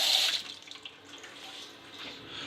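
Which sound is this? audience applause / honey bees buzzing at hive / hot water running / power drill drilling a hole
hot water running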